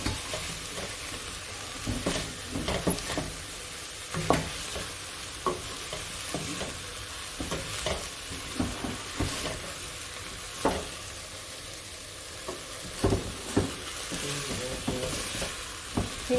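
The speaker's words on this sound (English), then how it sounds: "We are cooking beef barley soup." Beef barley soup cooks with a steady, soft sizzle, while a utensil stirs and scrapes the pot in scattered faint taps. No one talks.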